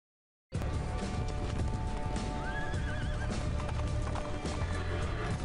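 A galloping horse in a fantasy radio drama: steady, close clip-clop hoofbeats run the whole stretch, with a whinny partway through, loud and continuous over a dense layered background.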